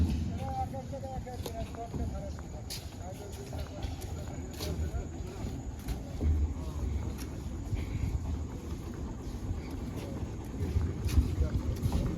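A boat motors through the Sundarbans, leaving Jamtola point, its low engine rumble and water noise running continuously under wind buffeting, with people talking over it.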